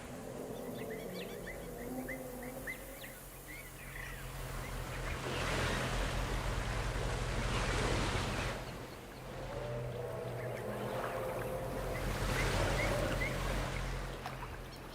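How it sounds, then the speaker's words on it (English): Steady rushing water of a waterfall in Jurassic World Evolution, a broad continuous roar that swells and eases in waves, with a low hum underneath. "here's another little waterfall that they made."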